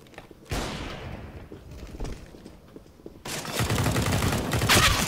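Gunfire in Counter-Strike: Global Offensive, a loud burst of rapid shots, a quieter stretch of scattered fire, then a sustained heavy fusillade near the end, with no talk over it.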